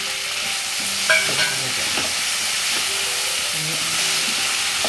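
Ingredients for a chicken stew, including a split tomato, sautéing in a second pan, a steady close sizzle and hiss with occasional spoon scrapes and faint tonal kitchen sounds, no speech.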